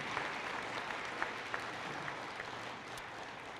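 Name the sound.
audience applause welcoming new faculty and staff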